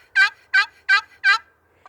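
A spring turkey call worked to imitate a plain hen yelp sequence: four evenly spaced, raspy yelps at a quick steady rhythm, close and loud, then silence.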